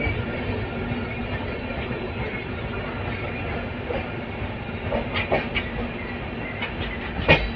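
A Clone Express special train rolls along an Indian railway line, a steady low rumble and hiss with rhythmic wheel clicks picking up near the end, no voices.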